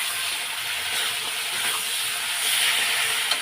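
Bengali spice paste made with turmeric and Kashmiri chilli powder sizzles steadily in a hot pan as it is sautéed, a bright continuous hiss at a fairly even level with no talk.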